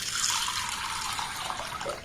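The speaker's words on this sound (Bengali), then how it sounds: "এবার এখানে আমি জল দিয়ে দেব।" Water poured from a tap into a bowl of sago pearls makes a steady, fairly soft splashing stream close by, with no talk over it.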